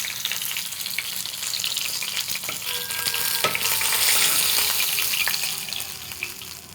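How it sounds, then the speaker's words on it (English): Steady loud sizzling of battered sea cucumber frying in a hot pan, with a crackling hiss throughout and an occasional scrape or clink. No voices. "we're pan frying horse clams or gooey duck"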